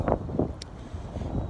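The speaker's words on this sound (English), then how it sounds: "If you can hear me, because it's really windy." Strong outdoor wind buffets the microphone in a low, gusty roar, with a couple of heavier bursts near the start and one brief sharp click in the middle.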